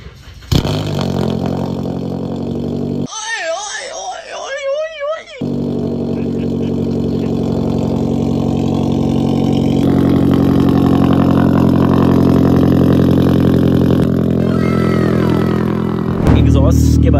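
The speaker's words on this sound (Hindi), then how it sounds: "Are you ready for a cold start?" Car engine with an aftermarket exhaust fires up from cold, then holds a loud, steady, rumbling idle with some revving. A short burst of speech and interference breaks in early on, and the engine drones on close and continuous to the end.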